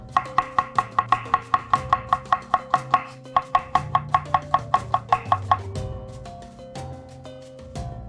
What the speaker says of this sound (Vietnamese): Hành tím chúng ta sẽ thái lát.